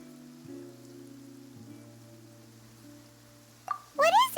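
Light rain falls in Genshin Impact, a soft, steady patter beneath sustained low musical tones, with a bright rising chime flourish swelling near the end.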